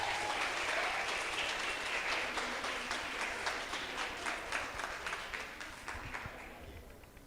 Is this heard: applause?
yes